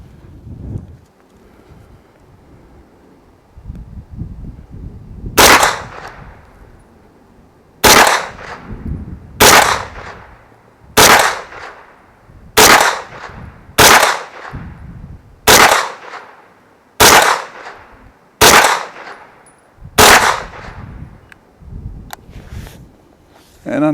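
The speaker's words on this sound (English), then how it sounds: "Shooting at the left target. So the one all the way to that side." A Taurus CT9G2 9mm pistol-caliber carbine fires ten loud, sharp shots at outdoor targets, spaced irregularly a second or two apart, after a quiet lead-in with faint background noise.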